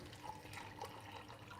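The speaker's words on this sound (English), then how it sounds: "I'll also add some water" Water pouring into a pan of apples for crepe filling, a quiet, steady splashing trickle heard close and alone.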